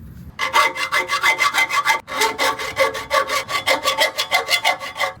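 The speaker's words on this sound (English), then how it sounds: "So hopefully I can make like some notches right here using this saw" A hand saw cuts notches into the subframe of a 1967 VW Type 3 Squareback, giving steady rhythmic rasping back-and-forth strokes, about twenty in quick succession with one brief pause, loud and close with no talking.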